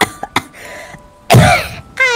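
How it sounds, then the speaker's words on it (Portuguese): A voice actor playing a child coughs in a Grand Theft Auto V roleplay, giving a few short hacking coughs followed by a louder, raspier burst and a brief throaty sound. "Filho, o que você tá tossindo, filho?"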